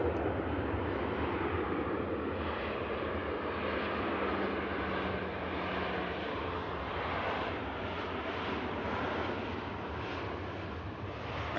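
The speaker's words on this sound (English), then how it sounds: "Ryanair just touching down." A Ryanair jet touches down and rolls out at Manchester Airport, its engine roar broad and steady, fairly loud and sustained throughout with a slight swell and fade, no voices over it.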